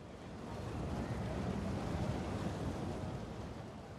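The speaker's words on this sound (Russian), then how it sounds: "Наше судно с двигателем в 1000 лошадиных сил летит по волнам." A 1000-horsepower motorboat races over ocean waves off the Bahamas, a steady roaring rush of engine, wind and spray that stays loud and even throughout, with no voices.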